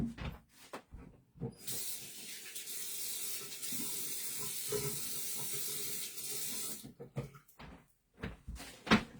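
A sink tap runs steadily for about five seconds, a close, broad hiss of water. Soft knocks and handling sounds come before and after it, with no talk.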